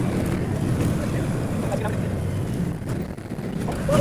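Wind blows hard on a boat, a loud rumbling roar buffeting the microphone with a wash of water beneath it, easing only briefly near the end.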